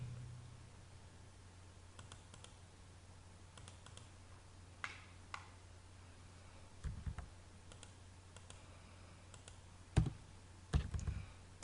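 A computer keyboard clicks faintly and sparsely as commands are entered in Civil 3D, with isolated keystrokes and a few louder taps in a quiet room.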